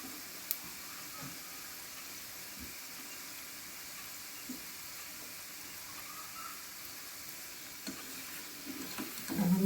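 Cabbage pakoda deep-frying in hot oil, a steady low bubbling sizzle throughout with a few soft clicks and a louder scrape of the fritters being turned near the end.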